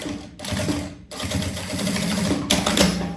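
A sewing machine stitches a shoulder bag, its fast mechanical chatter running close in three short runs with brief pauses between.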